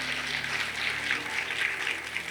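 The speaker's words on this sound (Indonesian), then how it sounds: "Ayo boleh tepuk tangan buat Tuhan Yesus" A church congregation claps for Jesus during a sermon, a steady wash of many hands across the whole span, fairly dense and even, with a low hum beneath.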